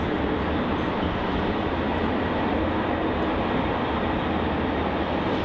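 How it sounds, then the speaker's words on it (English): A Boeing 787-9 touches down on runway 34 at Melbourne Airport, its broad, steady roar of engine and rolling noise holding loud and even throughout with no voices over it. "787-9, landing in from Jarman, of course. About to touch down here on runway 34."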